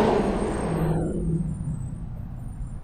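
A passing sports car whooshes loudly by outside, its broadband roar sweeping down and fading into a lingering low rumble as it moves away.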